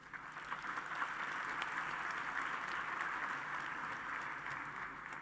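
Faint, distant applause fills a large hall at an OIC conference in Dhaka, an even, sustained patter of many hands with no voices over it.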